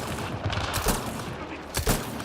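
Gunfire from a weapon in the video game Mass Effect Andromeda: a dense, noisy rattle of shots running the whole time, with two sharper, louder bursts standing out near the middle and end.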